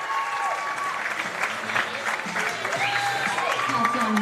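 Stadium crowd applauding at half-time of a CP football match between Australia's Pararoos and Japan, steady broad clapping throughout with a few faint voices mixed in.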